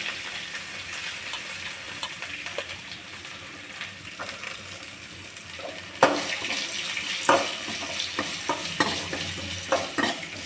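Onions frying and being stirred in a pan with chana dal and curry leaves for okra poriyal: a steady close sizzle with scraping spoon strokes that grow louder and more frequent in the second half, no voices.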